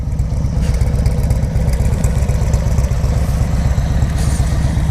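A Harley-Davidson Low Rider S or Yamaha Warrior 1700 cruiser motorcycle engine running close by, a loud, steady, deep pulsing idle with a rhythmic lumpy thump throughout.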